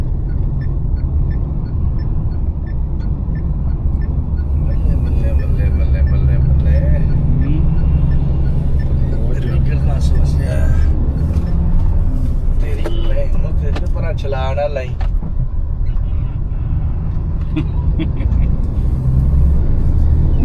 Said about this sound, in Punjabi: ਬਹੁਤ ਜ਼ਿਆਦਾ ਟ੍ਰੈਫਿਕ ਹੈ ਇਸ ਸਾਈਡ